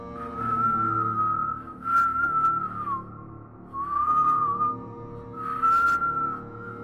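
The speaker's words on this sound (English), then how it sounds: "That night, the whistle came back, and I swear it was louder." An eerie, thin whistle sounds in several long wavering phrases separated by brief pauses, loud and close, sliding slightly in pitch, with no voices.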